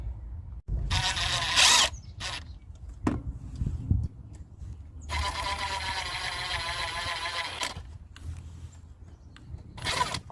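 Power tool snugging water pump bolts on a 1994-1997 Ford F250/F350 7.3 Powerstroke diesel, several short loud whirring bursts separated by pauses, close by.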